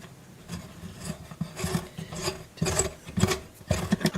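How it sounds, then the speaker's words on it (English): A reamer turned in a hole on a Martin guitar gives short, close scraping rasps in an uneven rhythm, several brief strokes, quiet and without talk. "So I'm just going to run the reamer in one more time."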